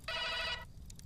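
A single short electronic telephone ring burst, bright and buzzing, used as a sound effect, then cutting off into faint background noise.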